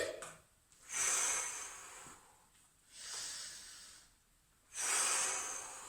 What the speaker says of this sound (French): on inspire sur la descente et on souffle sur la transition